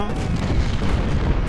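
Cannon fire in a Civil War battle in the strategy game Ultimate General: Civil War, a dense, continuous low rumble of booms throughout, with voice-like sound mixed into the din.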